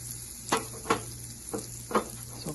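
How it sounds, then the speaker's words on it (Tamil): Garlic frying in melted butter in a pan, a soft steady sizzle broken by several louder stirring scrapes at irregular intervals. "பட்டர் மெல்ட் ஆகிற சமயத்திலேயே நம்ம இந்த பூண்டை சேர்த்துக்கோங்க."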